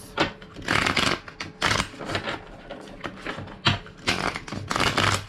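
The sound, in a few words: shuffling a deck of cards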